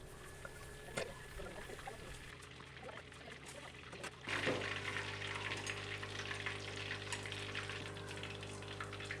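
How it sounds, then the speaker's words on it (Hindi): Minced beef frying in a pan, a quiet crackle that swells into a louder, steady sizzle once kachnar buds are tipped in, continuing close and unbroken with no voices. "अब कचनार डाल के थोड़ी देर इसको भूनूंगी"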